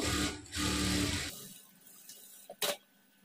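A sewing machine stitches a blouse lining, running in a loud steady whir for about a second before stopping, followed by a few small mechanical clicks and a brief burst.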